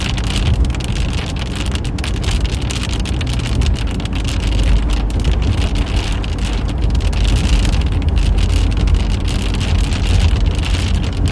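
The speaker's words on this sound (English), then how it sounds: "We do have heavy rainfall ongoing with this thing." Heavy rain from a severe February storm in Illinois drums loudly and without a break, a dense steady roar of drops striking surfaces close by, with no voices.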